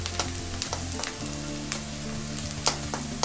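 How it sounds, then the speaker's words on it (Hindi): Onions frying in a pan for dal tadka, a steady close sizzle running throughout with occasional clicks and scrapes of stirring, no voices. "प्याज हमारा 1/2 फ्राई हो चुका है, थोड़ी देरी से और पकाएंगे ताकि ये सुनहरा भूरा हो जाए।"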